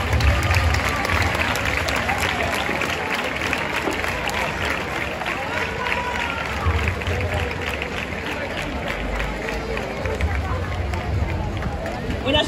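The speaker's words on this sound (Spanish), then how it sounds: "recibámosles con un fuerte aplauso." An outdoor festival crowd in a town plaza in Morata de Jalón applauds steadily, a dense wash of clapping mixed with crowd chatter and hubbub, with low rumbling background noise.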